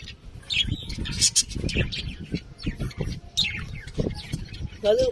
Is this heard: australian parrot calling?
yes